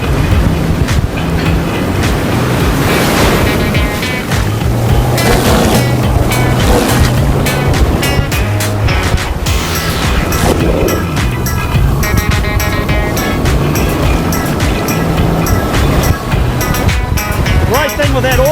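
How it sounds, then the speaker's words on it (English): A Predator Kontiki fishing unit's motor running loudly and steadily as it heads out into the surf, a constant mechanical drone mixed with crashing waves. Someone speaks over it. "We're going to start that motor, put her on the surf."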